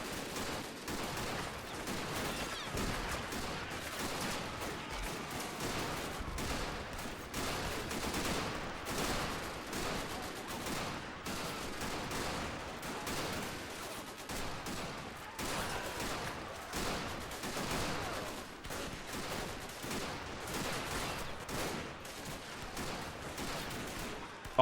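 Dense gunfire from a WW1 fort siege battle in a video game, with Russian and Austrian troops: continuous overlapping rifle shots and machine-gun bursts rattling from varied distances, with no pauses and no talk.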